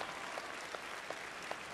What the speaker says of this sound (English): Yeah, let me clap, too.